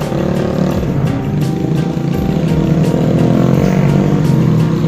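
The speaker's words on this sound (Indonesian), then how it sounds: "Tadi itu motor-motor ojek jagung" Corn-carrying motorcycle taxis rumble past on a rural road near a coconut plantation, their engines forming a loud, continuous droning roar that holds steady throughout with no voices.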